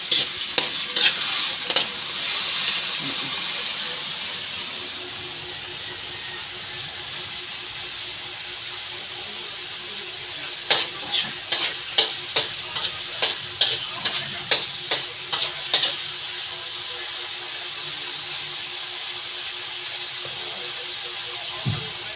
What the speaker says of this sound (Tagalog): atin na pong ginisa ang ating tahong, ang ating pansit